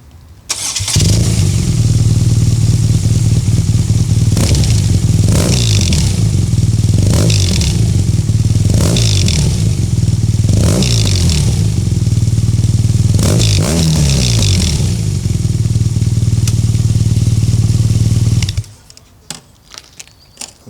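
A BMW R NineT Scrambler motorcycle idles loudly and close up, its exhaust note punctuated by a series of sharp throttle blips before the engine cuts off near the end.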